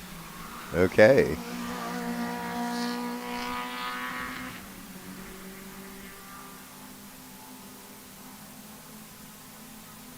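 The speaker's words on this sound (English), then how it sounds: "Ooh, those are some loud race cars, man." Race cars at Sebring during a winter majors race weekend, a loud engine roar that builds, passes and fades into a lingering distant drone; a voice speaks briefly near the start.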